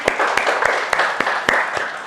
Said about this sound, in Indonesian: Kita kasih tepuk tangan untuk kita semua.